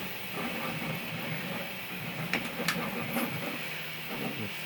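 A Prusa 3D printer running while printing a small cat-figure flower pot, a quiet steady mechanical hum and hiss with faint stepper whirs and a few brief clicks, heard at a distance in a room.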